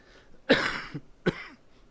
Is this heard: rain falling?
no